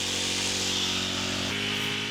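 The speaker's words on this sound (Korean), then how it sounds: "잔디 깎는 작업이 한창인 것 같은데요" Steady, droning motor buzz of a lawn mower cutting grass continuously nearby at a Buddhist temple garden, a slight drop in pitch partway through, with no talking.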